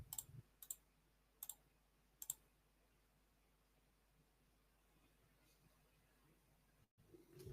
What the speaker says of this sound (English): Let me click here, just a sec.